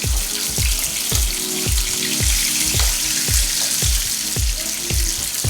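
Fish frying in a pan for a raw banana and fish curry, with a steady loud sizzle and a rhythmic series of low scraping or stirring strokes about twice a second throughout.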